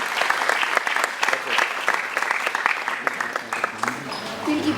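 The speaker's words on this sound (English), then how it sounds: "can I please have a huge round of applause for sir" Audience at a school moot court competition giving loud, close applause, a thick burst of individual claps that thins toward the end as a voice begins speaking.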